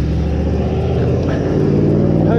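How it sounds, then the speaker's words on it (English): A noisy car or truck passes on a road near the corner of Sloane Street and Finlay Road, its loud steady rumble filling the whole stretch, heard close by and alone without any talk. "noisy car, truck"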